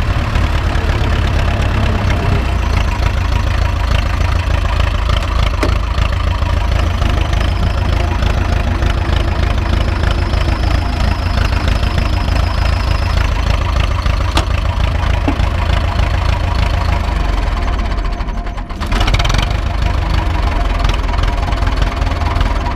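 A Zetor 25 tractor engine idles loudly and steadily nearby, a constant low diesel rumble with slight knocking texture that dips briefly near the end before resuming.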